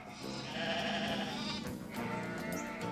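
A pair of close sheep bleats, one long, wavering cry followed after a short gap by a second, heard clearly in a farm setting with no talk over them.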